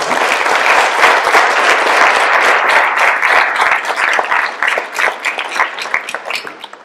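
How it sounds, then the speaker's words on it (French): Applause for guest speakers at a university event on artificial intelligence, loud and dense clapping from an audience that holds steady, then thins into scattered claps at the end. "J'aimerais quand même qu'il y ait une pléthore d'applaudissements pour nos invités."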